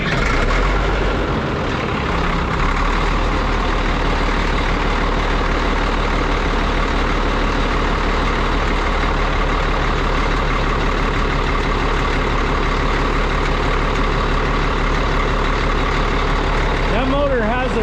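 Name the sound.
old service truck engine running after two years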